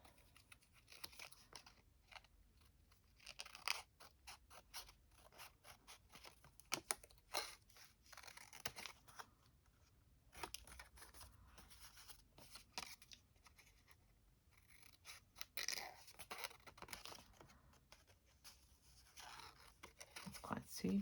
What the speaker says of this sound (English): I do happen to have my fussy cut scissors